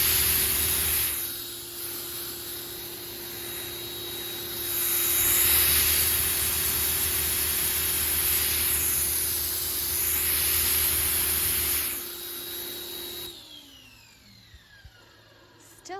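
Pressure washer spraying through a double nozzle, a steady broad hiss of water that swells and eases in the middle, then cuts off near the end, leaving quiet.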